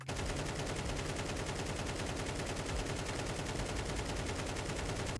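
Continuous rapid automatic gunfire from a weapon in CS2, a fast, even stream of loud shots held without pause for several seconds.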